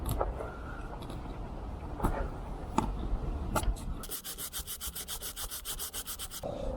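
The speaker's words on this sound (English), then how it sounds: "sanded it down, and I'm gonna use sealant" Rhythmic back-and-forth sanding on a boat hatch being prepared for fresh sealant, close and steady, with quicker regular strokes toward the end and no talking.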